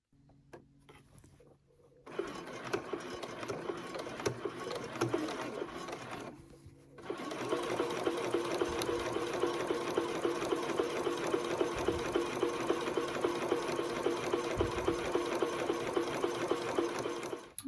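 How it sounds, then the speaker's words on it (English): A sewing machine stitching in the ditch to understitch an elastic waistband with a channel: a short run, a brief pause, then a long, steady, even whirring run of stitches, close and continuous, with no talking. "I'll take it to the sewing machine to understitch"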